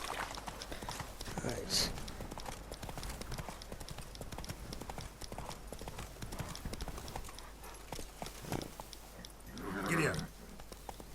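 Hooves of a horse in The Witcher 3 video game clatter in a steady clip-clop rhythm throughout, with brief spoken words and a short vocal urging over the riding.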